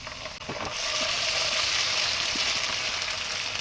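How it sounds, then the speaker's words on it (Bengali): Ginger and garlic hit a pan of browned onions and sizzle steadily, a loud close hiss that swells after a few light knocks and then holds even. "এখন আদা রসুন দিয়ে দিব পরিমাণ মতো"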